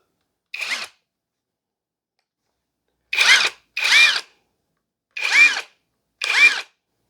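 A ProEuro impact wrench runs at maximum torque in five short, loud bursts: one single burst, a pause, then two quick pairs, with silence between them and no talking.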